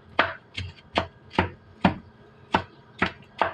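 A knife chops squid for grilling on a cutting board in eight crisp, evenly spaced strokes, each a sharp close knock with a brief scrape.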